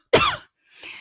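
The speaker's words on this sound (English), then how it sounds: "Sorry, I'm just going to cough." A single sharp cough, close and fairly loud, followed after a short pause by a softer breathy throat-clearing sound.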